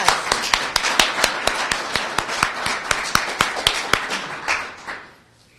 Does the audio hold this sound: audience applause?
yes